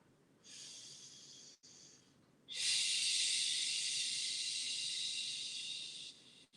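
Deep yoga breathing during a seated spinal twist: a soft, breathy inhale, then a long, loud, hissing exhale held for several seconds, close to the microphone, with no talking.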